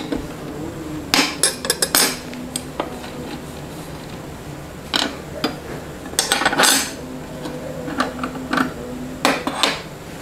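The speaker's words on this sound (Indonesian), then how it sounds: "lebih baik kita pukul pakai kayu, seperti ini" A piece of wood striking the blade nut on a Stanley SST1801 table saw fitted with a Freud Pro 40T blade: sharp, clanking metallic knocks in irregular clusters, fairly close, with no talking.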